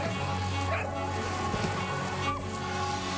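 Sled dogs barking and yipping outdoors, several excited yelps over a steady dense background, with a voice talking over them.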